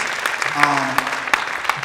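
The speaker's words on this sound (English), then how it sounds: "Give a round of applause for that tradition of insistence" Audience applause at an evening festival ceremony honoring a playwright, a brief burst of dense clapping with a voice speaking faintly over it.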